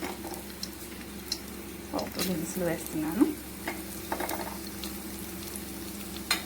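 Hot oil sizzles steadily in a thick pan with garlic, dried red chillies and tempering spices, a few stirring scrapes, while a voice speaks briefly over the frying.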